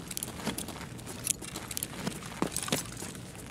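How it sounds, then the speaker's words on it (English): A player fiddles with a grenade in a video game, giving a light jingle like a keychain: faint, scattered metallic clinks and small taps over a low background murmur, with no talk. "Sounded like keys jingling, right? Like a keychain."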